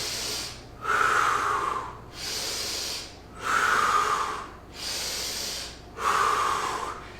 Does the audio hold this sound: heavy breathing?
yes